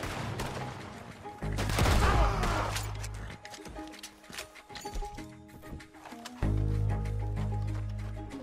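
Shotgun blasts from a sawed-off shotgun ring out in the video game Red Dead Redemption 2, several loud booming reports spread across the span amid other game sounds.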